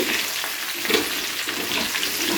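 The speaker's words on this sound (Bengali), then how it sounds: "আলুগুলো কিন্তু সুন্দর লাল লাল করে ভেজে নেওয়া হয়ে গেছে" Potatoes frying in oil in a pan for a chicken curry, a loud continuous hiss and crackle that stays steady and close throughout, with no voices.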